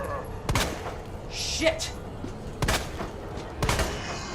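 Gunfire at zombies in the Resident Evil 2 remake, three sharp, well-spaced shots with a character's short spoken reaction in between, set against a low game ambience.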